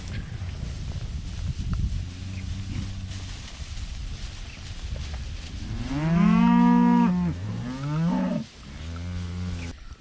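Cattle low and moo in several long, loud calls at a farm watering area, with a couple of overlapping voices rising mid-clip over steady background noise.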